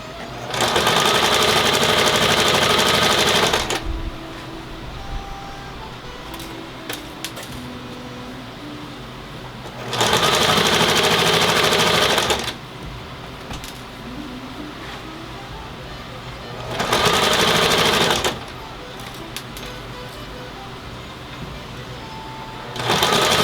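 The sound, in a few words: sewing machine stitching fleece computer cover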